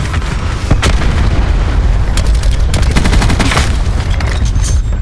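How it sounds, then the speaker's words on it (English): Cluster grenade blasts in Black Ops 4, a loud, continuous barrage of overlapping booms and crackling bursts with sharp transient hits, dense and close throughout with no pauses. "Cluster grenade going in."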